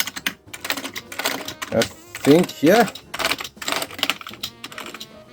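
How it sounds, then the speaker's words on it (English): Keys pressed one after another on an Amiga 600 computer keyboard during a restoration check. The clicks come close together, mixed with talk and with a few short bursts of voice. "Last thing I wanted to check is actually the keyboard."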